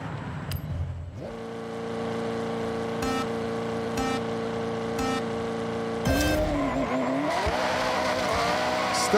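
A car spins out in the Forza Horizon racing game, its engine droning steadily before tires squeal and skid loudly near the end, with the engine revving under the screech.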